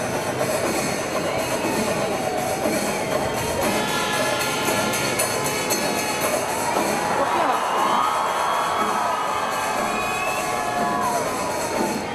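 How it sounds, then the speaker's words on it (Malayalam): Large festival crowd at the Thrissur Pooram announcement ceremony raising loud, sustained cheers and shouts that swell toward the end, dense and continuous throughout. "മുഴങ്ങിക്കെട്ടത് ജനക്കൂട്ടത്തിന്റെ ആർപ്പുവിളികളായിരുന്നു"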